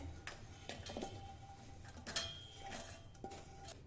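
Roasted dry coconut and chili being scraped into a mixer jar, heard as light clinks and taps of a spoon against metal, a few scattered strikes close by and faint, with no talking.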